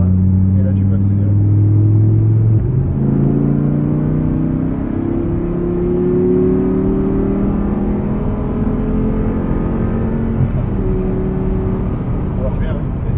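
An Audi R8 accelerating on a race track, its engine rising through repeated climbing revs with gear changes across a steady loud drone, while an instructor talks over it.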